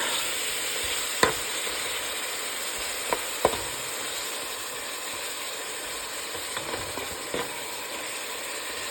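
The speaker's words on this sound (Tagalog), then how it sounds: "Ginisa ko na yung steak yan. Ginisa ko na siya. So, sibuyas, kamatis." Beef steak sautéing in olive oil and butter with onion and tomato, a steady close sizzle with a few sharp clicks of a utensil against the pan, no talking.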